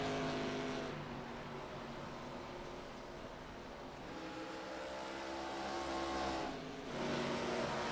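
Stock cars from the Vantage Auto Stock Tour race side by side around Dover in a racing video game, engines droning loudly and steadily with layered pitches, the roar swelling slightly toward the end.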